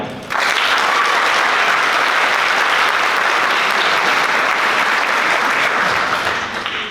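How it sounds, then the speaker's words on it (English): Loud, sustained applause from an audience at a Model UN closing ceremony, starting abruptly and holding steady for several seconds before tapering slightly at the end. "Please offer a round of applause for the delegate of China."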